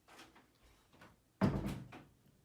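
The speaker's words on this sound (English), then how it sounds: "Shut my door, will you?" A bedroom door swings shut with a single solid thunk in a quiet room, preceded by faint shuffling and movement.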